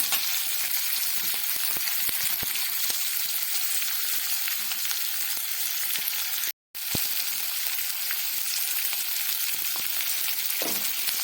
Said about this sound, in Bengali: মিডিয়াম আছে পেঁয়াজটা একটু লাল লাল করে ভেজে নেব